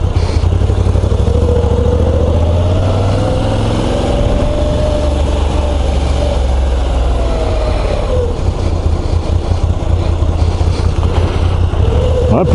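A Moto Guzzi V85 TT twin-cylinder motorcycle being ridden, a loud, steady low engine rumble with wind buffeting throughout, close to the rider.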